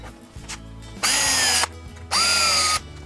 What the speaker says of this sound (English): and then pre-drill for the screws